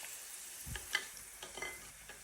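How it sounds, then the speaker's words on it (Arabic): Pasta fries in oil in a pan with a faint, soft sizzle, punctuated by a few light scrapes and taps as it is stirred. "اول مره نقلي مكرونه في حياتنا"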